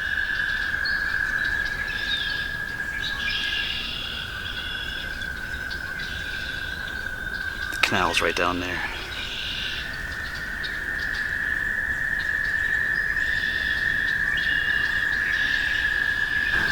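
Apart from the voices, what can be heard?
frogs calling by a flooded canal in spring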